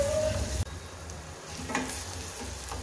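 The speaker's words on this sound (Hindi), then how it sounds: "अब इसमें जाएगा प्याज, और इसको हम अच्छी तरह से पहले भून लेंगे" Onions frying in a pan, likely in oil with curry leaves, for a home-cooked vegetarian thali; a soft, steady sizzle with a brief clatter early on, fairly quiet and close, with no talking.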